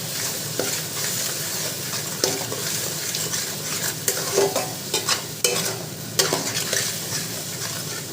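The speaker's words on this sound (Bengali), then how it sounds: "এবার আমি ভালো করে সমস্ত মশলা কষিয়ে দেব" Onion paste and spices stir-fried in a pan for mutton curry, a steady close sizzle broken by repeated scraping strokes of a spatula against the pan.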